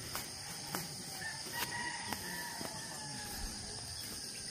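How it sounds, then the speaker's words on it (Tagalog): Chickens pecking in a provincial rice field in Bohol cluck softly and a rooster crows at a distance. Crickets and a steady insect drone fill the background. "Yung mga manok, guys, nakikikain dito sa palay."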